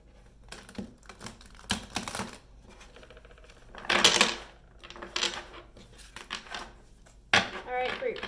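Crisp bursts of riffling cards, several quick shuffles close by, separated by brief pauses and soft handling sounds.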